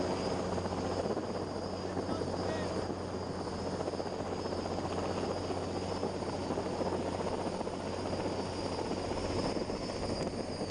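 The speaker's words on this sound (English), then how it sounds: "the helicopter gently releases the tension on the line and ascends back" Helicopter releasing tension on a line at a tower and climbing away, a steady, dense rotor and engine drone that holds at a constant loudness without pause.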